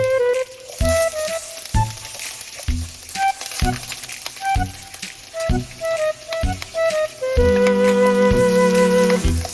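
Carrots and potatoes sautéing in hot oil in a pan, a close sizzle broken by repeated scraping and stirring knocks, with a steady, louder hiss at the end.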